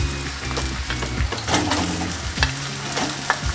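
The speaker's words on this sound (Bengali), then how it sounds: "এবার দিয়ে দেবো পেঁয়াজ কুচিয়ে রাখা পেঁয়াজটা দিয়ে দিচ্ছি" Chopped onion goes into hot oil with garlic for a Kerala-style chicken curry, a close, steady sizzle with scraping and stirring clatter from a utensil in the pan, no talking.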